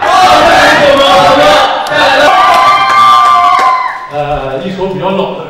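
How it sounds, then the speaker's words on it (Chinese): An audience at a weight-loss training camp event cheers and claps loudly in welcome, a dense burst of shouting and applause from a crowd, thinning to scattered claps and voices near the end. "我们以欢快的步伐和欢快的掌声再次欢迎一下"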